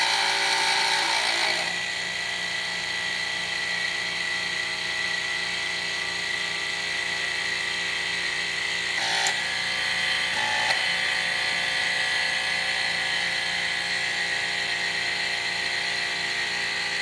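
A HYTORC hydraulic torque wrench pump runs with a loud, steady, high-pitched motor whine while it builds pressure, unbroken for the whole stretch apart from a couple of brief clicks, with no voices over it.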